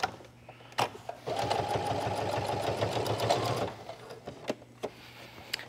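A sewing machine topstitches with a topstitch needle and heavy topstitching thread, a steady rapid whirring run of about two and a half seconds framed by single clicks and thumps of the needle being positioned, close by.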